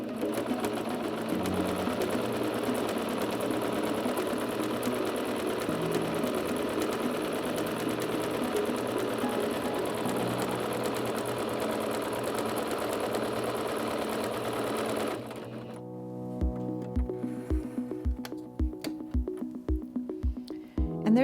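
Singer C5205 sewing machine stitching a vine stitch, a steady motor whir with rapid needle clatter, then slowing into distinct evenly spaced mechanical thumps as the stitching ends.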